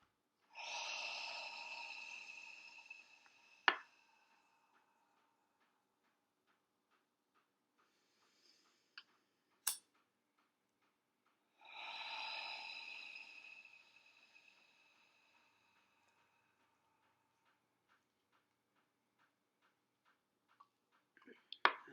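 Two long group breaths, each a broad airy inhale or exhale lasting about three seconds, separated by quiet pauses and a few small clicks, close and fairly soft during a guided deep breathing exercise.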